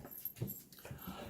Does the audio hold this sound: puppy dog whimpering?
yes